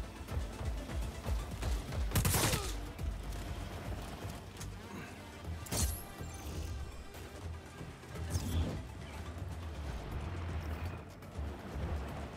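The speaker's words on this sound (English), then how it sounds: "I don't like this smart rifle." Smart rifle gunfire in the video game Just Cause 4, heard as a few sharp, loud bursts spread across busy game noise and mechanical clatter.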